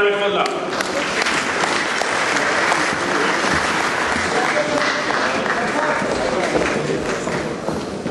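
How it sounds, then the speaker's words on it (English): A community awards ceremony at an iftar dinner fills with sustained applause as an honoree heads to the stage, thick continuous clapping throughout with faint voices mixed in. "A round of applause for Dr. Arifullah."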